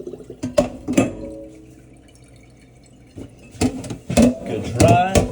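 A stainless steel pan is rinsed under running kitchen tap water. Close splashing gushes come in two bursts, separated by a quieter pause, with occasional clinks of the pan.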